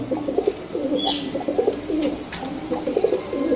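Two male Prince Kamagar pigeons with red eyes coo close by, repeated low rolling coos in a steady rhythmic series with no talking.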